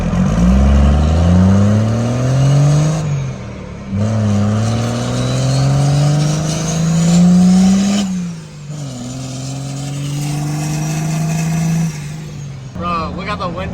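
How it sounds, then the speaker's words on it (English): A 1,200-horsepower second-gen Cummins diesel crew cab dually truck accelerates hard through several gears, each rising engine pull broken by a shift pause, loud and close with voices heard in the cab. "First time driving the blue truck as a dually"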